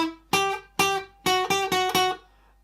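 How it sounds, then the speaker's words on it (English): Close, solo fingerstyle guitar picks out the opening two bars of the melody from a song: six bright, ringing plucked notes, two spaced apart, then four in quicker succession. "So the first two bars sound like this."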